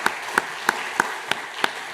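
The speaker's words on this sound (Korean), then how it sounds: "박수로 축복하겠습니다" A church congregation claps to welcome new members. A few sharp, evenly spaced claps cut through a softer wash of applause over about two seconds.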